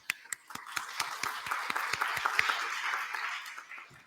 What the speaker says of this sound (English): Ladies and gentlemen, please clap for yourselves.